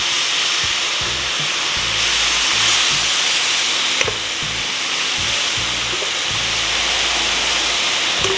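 Boneless chicken thighs sizzle and fry on a hot Blackstone griddle, a constant loud hiss with intermittent scraping and stirring knocks from a spatula, no voices.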